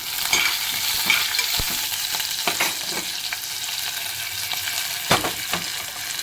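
Cumin, green chili and long strips of fresh ginger frying in hot oil in a pan, a continuous close sizzle broken by scattered spatula taps and scrapes, no voices.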